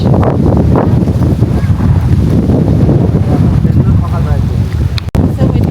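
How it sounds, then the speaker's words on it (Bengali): Strong wind with light rain buffets the microphone in a steady, loud roar, with rushing gusts and a faint watery wash underneath; a brief dropout near the end. "আর যে পরিমাণে বাতাস।"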